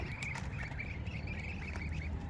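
Farm ducks in Israel quack in a steady, busy stream of short calls, moderately close, over a low rumbling background without any speech.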